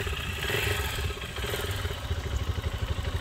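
Motorcycle engine revved hard with too much throttle by an inexperienced rider, a loud continuous rumbling roar with pulsing surges, heard close up and alone.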